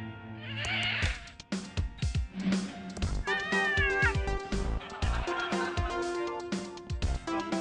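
A cartoonish cat in the point-and-click adventure game Thimbleweed Park, set in a hotel, gives a string of loud, close meows and yowls, some stretched into wavering caterwauls, with short gaps between them.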